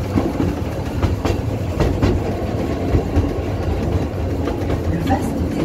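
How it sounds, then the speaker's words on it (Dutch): The Pairi Daiza steam train rolls along at a zoo park, a steady rumbling run with rhythmic clickety-clack of wheels on rail joints and low engine noise, fairly close and continuous. "het geluid op de stoomlocomotief aan het werk"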